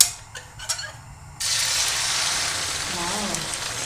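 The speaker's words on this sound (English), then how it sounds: "Hear the sizzling sound?" Egg mixture for a fluffy omelette hits an extremely hot pan with a lot of oil, bursting into a loud, steady sizzle with crackling after a quiet start.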